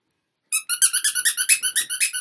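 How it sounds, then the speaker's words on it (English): A dog's squeaky toy squeaks in a rapid run of about a dozen sharp, high, evenly spaced squeaks, loud and close, following a brief silence. "my dogs love squeaky toys"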